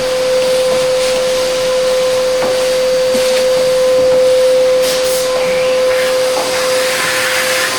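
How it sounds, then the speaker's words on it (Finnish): A vacuum cleaner runs loud and steady from start to finish, a continuous close whooshing hiss with a high whine, with no speech over it. "Mä imuroin"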